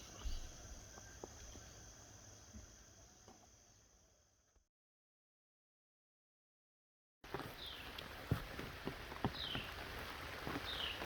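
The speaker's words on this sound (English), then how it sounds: "It's been raining all morning." Rain falls steadily outdoors on a morning along the Appalachian Trail in autumn, a soft continuous hiss with scattered drops and faint insect chirps, cut by a stretch of silence before resuming.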